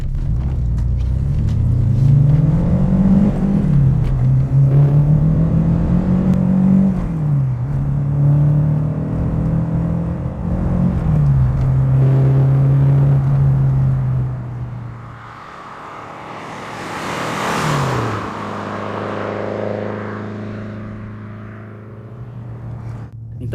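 A 1989 Renault 5 GT Turbo with its small 1.4 turbo engine revs hard while driving, the engine note climbing through several gear changes, then quieting briefly before a rushing whoosh and renewed acceleration.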